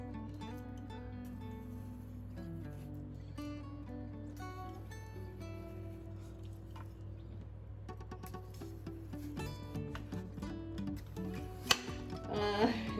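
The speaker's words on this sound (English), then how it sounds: "I just hold it very, very gently and slice" Gentle knife slices through soft food on a cutting board, faint scraping strokes under a steady bed of background music that swells louder toward the end, with one sharp tap near the close.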